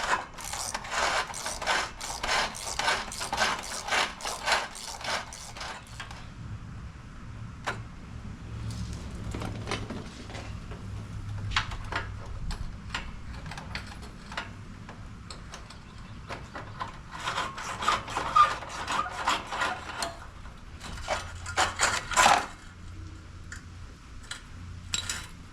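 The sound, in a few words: socket wrench loosening an old bolt on a G-Wagon brush guard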